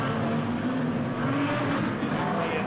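Street stock race cars roar around the track at Adelaide Motorsport Park during a B-main race, producing a dense, steady engine drone that fills the whole stretch without breaks.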